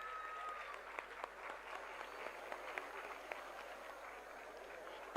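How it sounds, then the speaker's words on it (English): Applause for the chief guest and dignitaries at a student achievers summit in a hall, thin, somewhat distant clapping heard steadily before a sudden loud burst at the very end. "With a huge round of applause, let us present our gratitude to them."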